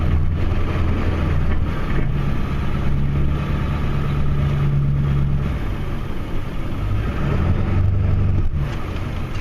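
A Ford F250 Super Duty pickup with the 7.3 Powerstroke diesel pushes a snow plow, its engine a steady, loud, close rumble that holds throughout with slight shifts in load.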